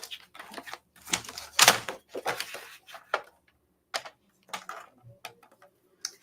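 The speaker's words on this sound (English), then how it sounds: "So get my trimmer." A rotary paper trimmer slices card down to 5 by 7 inches for a Christmas card: several short, sharp cutting strokes and clicks, close and fairly loud, separated by quiet gaps.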